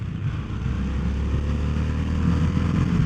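A 2021 Harley-Davidson Sportster S with a Revolution Max 1250T engine accelerating hard on a highway, a deep steady engine roar that builds slightly, mixed with wind rush, heard from the rider's position.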